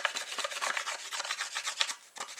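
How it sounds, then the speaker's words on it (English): A flat flint scraper blade rasps back and forth over a rough flint edge, quick close scraping strokes repeated in a steady rhythm with no talk. "you just find that section and you just simply rub it down like that"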